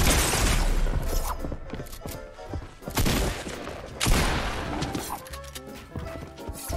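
Gunfire in the video game Fortnite, with bursts of loud shots and crashing impacts, sharp cracks near the 3 and 4 second marks, continuous game noise between them and little talk.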